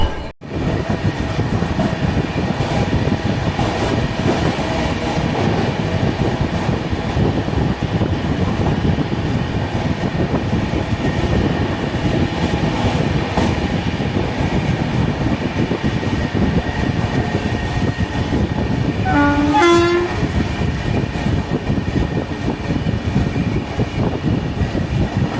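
An Uday double decker express with LHB coaches runs between Coimbatore and KSR Bengaluru, giving a loud, steady rumble of rolling wheels and carriages throughout, with a brief higher tonal squeal partway through.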